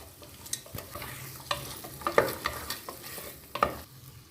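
Potatoes are stirred in a hot pan of frying vegetables, a spoon scraping and knocking against the metal in irregular bursts over a low, steady sizzle, close by.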